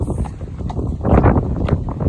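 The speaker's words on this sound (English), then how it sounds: "We've just got these other horses coming up to the fence." Muffled hoof thuds of horses moving on soft ground in a field near a fence, close by, with wind buffeting the microphone throughout.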